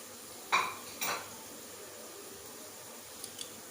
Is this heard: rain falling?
no